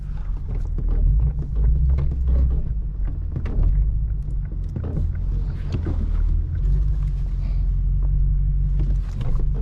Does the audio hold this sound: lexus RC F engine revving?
yes